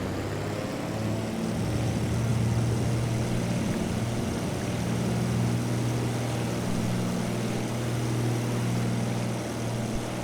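A De Havilland DHC-2 Beaver floatplane taking off on the California Delta with a little flap set, its radial engine and propeller droning steadily and loudly throughout, heard from inside the aircraft.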